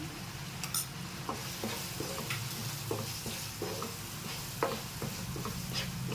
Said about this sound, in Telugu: కారం, ఉప్పు వేసాక కూడా కాసేపు వేగాలండి ఇది